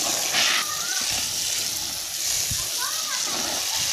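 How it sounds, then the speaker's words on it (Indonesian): Water is poured onto potting mix with lime in a pot for grapes until soaked, a steady close splashing and gushing. Someone talks over it. "kita siram sampai jenuh, nggak masalah."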